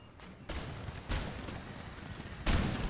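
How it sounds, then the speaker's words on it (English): Musket volleys fire in Empire: Total War, three sharp bursts of massed gunfire about a second apart, each trailing into a rattling crackle that carries on at moderate distance. "Sustained volleys like that is probably not going to work."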